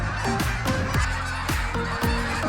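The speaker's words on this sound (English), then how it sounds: "More birds." Geese give repeated loud, nasal honks, several birds overlapping in an uneven chorus that comes through clearly with no one talking.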